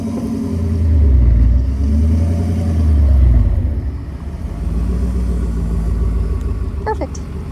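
An EarthRoamer truck engine idles and rumbles loudly while the vehicle backs up, with low pulsing swells, under occasional voices.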